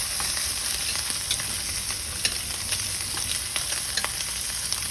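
Vegetables frying in a hot pan used for New York strip steak: an even, close sizzle with scattered crackles and light clicks from stirring, no talking.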